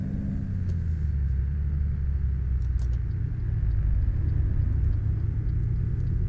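A Freightliner Classic XL truck in American Truck Simulator drives through town with a steady, deep engine rumble that holds even and close throughout, with a thin high whine above it and a few faint clicks.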